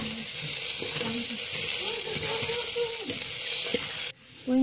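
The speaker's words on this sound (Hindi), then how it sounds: "मूंग की दाल को और दलिया को मैं तेल में 1 मिनट के लिए भूनूंगी।" Moong dal and dalia roasting in hot oil, a loud continuous sizzle with a few scraping stir strokes underneath, close up, cutting out abruptly near the end.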